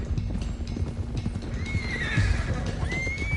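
Horses in a western video game whinny with a high, wavering neigh while hooves clip-clop steadily beneath, close and clear against a low rumbling background, with no talk.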